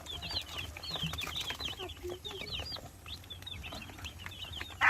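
Free-range broiler chickens in a backyard pen clucking and chirping in scattered short calls, fairly close and moderately quiet, over low background rumble.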